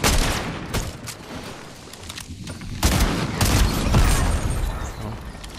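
Rapid video game gunfire rattles in loud bursts and sustained volleys, with sharp cracks scattered across the whole stretch.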